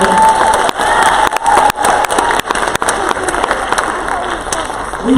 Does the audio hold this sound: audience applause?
yes